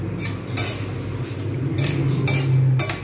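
Biryani spices being dry-roasted and stirred in a pan, with a metal spoon scraping and clinking against the pan in repeated close strokes over a low background hum.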